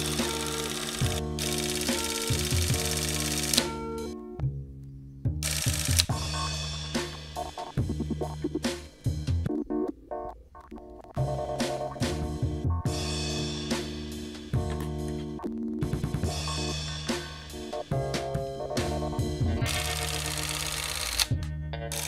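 A Sankyo Super 8 movie camera runs with a steady mechanical whir and rhythmic clatter, close and loud, broken by short pauses and restarts, with no talking.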